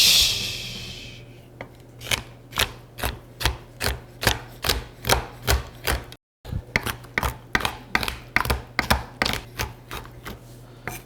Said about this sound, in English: it's time for some chocolate chopping ASMR